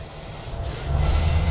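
A steady high-pitched whine of a small RC helicopter rotor rising to full head speed, with a low rumble building underneath, continuous and fairly loud.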